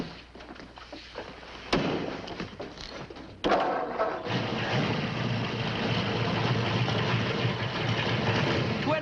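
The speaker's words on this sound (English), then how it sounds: "Start up the motor and let him listen to it." A flathead car engine fitted with special heads, 8.5 to 1 compression and twin carburetors starts with a sharp burst, then settles into a loud, steady, rumbling run close by.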